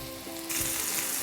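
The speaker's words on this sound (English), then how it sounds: "Keep this frying, don't let it start stewing the meat." Mutton frying in hot oil as a first batch browns in a curry pan, a steady loud sizzle that swells into a brighter, harsher crackle halfway through, with no voices over it.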